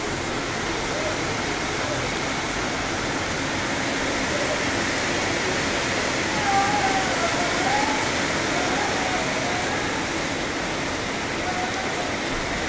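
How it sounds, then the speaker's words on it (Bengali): Heavy monsoon downpour drumming steadily on surfaces, a dense, unbroken roar of rain close by and fairly loud throughout, with faint background sounds mixed in. "দেখো কি মুষলধারে বৃষ্টি হচ্ছে।"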